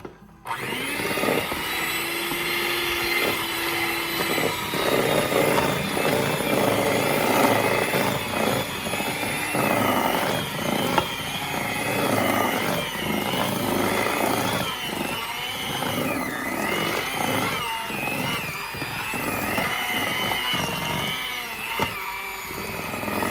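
Electric hand mixer beating coffee sugar cookie dough, a loud continuous motor whir with a grinding, straining edge that runs steadily throughout, with small shifts in pitch as it works through the thick dough.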